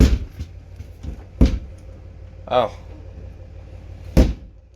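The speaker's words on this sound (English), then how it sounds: "I'm gonna get the doors closed because," Metal doors on a car-hauling trailer being swung and banged shut, several sharp thuds spaced a second or two apart with a brief creak between, a short exclamation mixed in.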